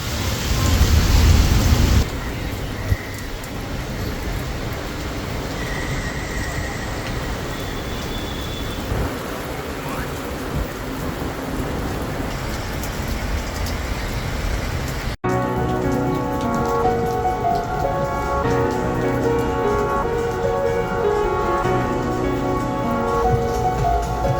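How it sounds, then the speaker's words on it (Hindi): Heavy rain pours steadily outside a shopping mall in Delhi, a dense continuous hiss of drops hammering surfaces, loud and close; partway through, a song with music begins playing over the downpour. "बहुत ज़ोरों की बारिश हो रही है।"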